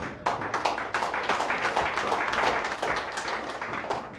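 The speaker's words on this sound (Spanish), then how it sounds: "Gracias por los aplausos." Applause from the gathering at a Bible school closing ceremony in Sacpichan, Concepción Tutuapa: a crowd of hands clapping in a lively, uneven patter that builds quickly and carries on steadily.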